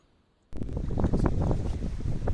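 Strong wind buffets the microphone beside an abandoned pond, starting abruptly and roaring steadily in a close, rumbling rush with no speech.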